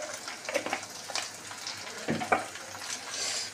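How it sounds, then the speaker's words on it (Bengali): Tap water runs and splashes in a kitchen sink as hands are washed during cooking, a steady gushing rush with a few louder splashes, no talking. "হাতটা ধুতে হবে"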